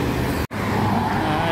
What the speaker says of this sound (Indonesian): Kemudian ada bis pariwisata Trans Utama dengan jurusan rombongan 2 bis.